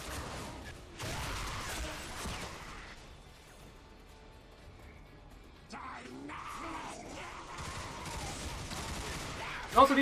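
Gunfire and chaotic combat effects from the shooter game Bulletstorm, with bursts of crashes and impacts rising and falling around a quieter stretch, mixed under a player's talk.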